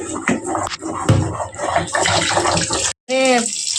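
Running water splashes loudly over freshly caught katla fish being rubbed and washed with salt, a near, rushing flow that briefly cuts out near the end before resuming, with a voice faintly present.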